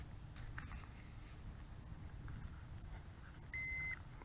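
A single short electronic beep rings out near the end from a Holystone HS165 foldable GPS drone during compass calibration, over a quiet low background rumble.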